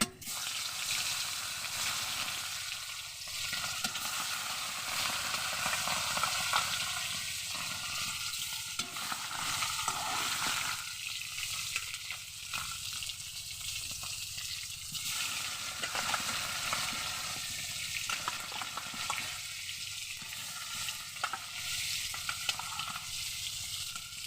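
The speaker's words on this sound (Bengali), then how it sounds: "এবার আমি মাছটা ভেজে নেব" Fish rubbed with salt and turmeric fries in hot oil, giving a steady, loud sizzle throughout with occasional stirring and spatula scrapes, no voices over it.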